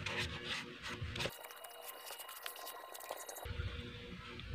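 A cloth rubs and wipes leaked oil off a mini chainsaw near the brake drum, a soft continuous scrubbing close by with no talking.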